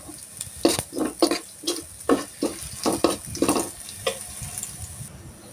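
Chopped bottle gourd stirred in a pan of onion, garlic and cumin for lentil dal, giving a series of wet, scraping stirs with light sizzle, close and moderately loud with no talking.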